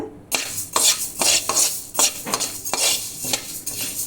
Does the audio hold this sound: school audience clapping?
no